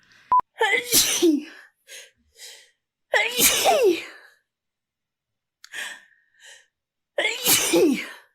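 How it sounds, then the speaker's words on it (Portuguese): Three sharp sneezes, each preceded by a quick inhale, spaced a few seconds apart with quiet breaths and short pauses between them. "Eu sempre espirro 3 vezes."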